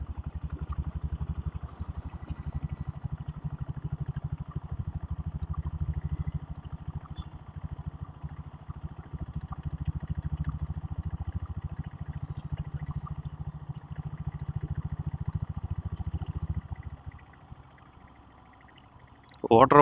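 Diesel Bullet motorcycle engine running close with a low, thumping, steady beat, dipping slightly and then dropping off near the end, with a voice talking over it.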